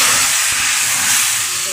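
Hot tempering for a village-style fire dal poured in with curry leaves, giving a loud, steady, hissing sizzle that fills the whole moment, with a brief crackle near the start.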